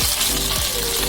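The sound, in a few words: ghee heating in a kadai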